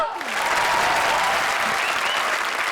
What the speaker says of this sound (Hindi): तो हो जाए जोरदार तालियां